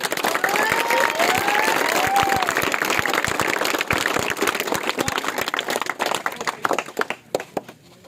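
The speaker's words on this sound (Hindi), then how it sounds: "तो आप दाद दें ज़रा ताली लगा के इसको।" A school prize ceremony audience claps loudly and densely, with some cheering mixed in, then the applause thins into scattered individual claps and fades out near the end.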